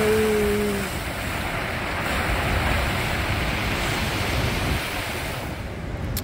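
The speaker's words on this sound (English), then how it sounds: "Listen to the sound of waves." Ocean waves breaking on a shore, a steady broad wash of surf that holds loud throughout, with a brief tonal hum at the start.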